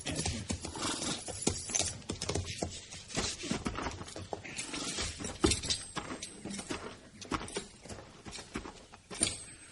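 Horse hooves clopping on the ground in an uneven, continuous rhythm, fairly close, with faint shuffling and creaks between steps.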